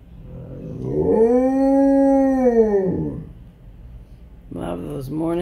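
An Alaskan Malamute lets out a long, loud morning howl that rises and falls for about two seconds, then breaks into shorter whining yips near the end.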